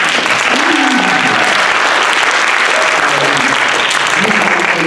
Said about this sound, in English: How about another big round of applause for Symphonic?